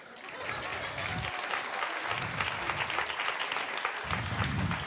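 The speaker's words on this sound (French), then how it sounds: "Vous pouvez applaudir." An audience at a youth media excellence awards gala breaks into sustained applause. Dense, loud clapping fills the whole stretch, with a crowd murmuring beneath it.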